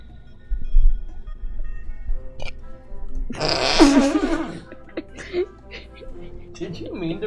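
A single burp bursts out loud and close during a livestream, a short rough throaty blast standing out from the quieter background chatter, with voices talking before and after it.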